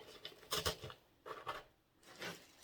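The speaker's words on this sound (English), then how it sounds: "we're going to use our scissors and kind of bend" Scissors cutting and bending wire for a small garden craft, giving soft, close snips and scratchy rubbing in a few short bursts at low volume.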